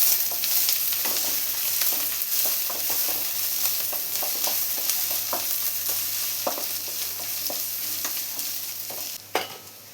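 Sliced onions sautéing in a pan with curry leaves and chopped green chilies for chicken kurma, a steady soft sizzle broken by repeated scraping strokes of a stirring spoon, with a sharper clatter near the end.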